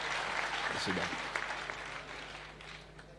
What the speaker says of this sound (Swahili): Pigeni ya makofi